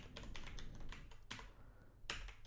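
Code being typed on a computer keyboard, a quick continuous patter of soft, close key clicks with a few sharper taps, no voices.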